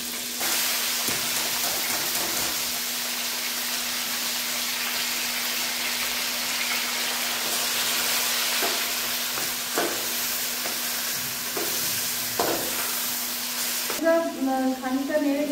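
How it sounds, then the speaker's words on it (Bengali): Chopped tomatoes fry in oil in a pan, giving a continuous close sizzling hiss with occasional stirring knocks; near the end a different, more tonal sound briefly takes over. "দিয়ে দেবো টমেটো, কুচিয়ে রাখা টমেটো দিয়ে দেবো তেলের মধ্যে। হালকা করে ভেজে নিয়েছি।"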